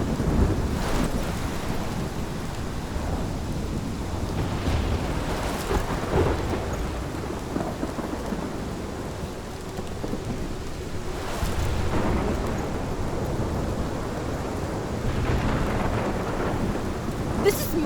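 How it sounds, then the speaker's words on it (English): A thunderstorm with heavy rain rolls through a scene in the video game Life is Strange: a steady roar of rain with deep rumbles of thunder swelling and fading across the whole stretch, loud and without talk. "This is my storm."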